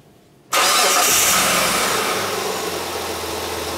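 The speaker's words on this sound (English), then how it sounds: "So now let's start the engine and look at this signal." A car engine starts after near silence, cranking into a loud, steady idle that holds for several seconds with no talk.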